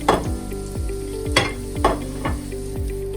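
Onions and garlic sizzle in a hot pan for pad thai while a utensil scrapes and tosses them in regular strokes, about one every half second, close-up over a constant frying hiss.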